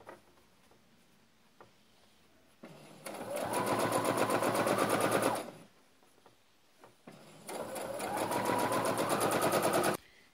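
A sewing machine stitches a strip onto frock pockets in two sustained, rapid-clattering runs of about three seconds each, separated by a quiet pause with faint handling sounds.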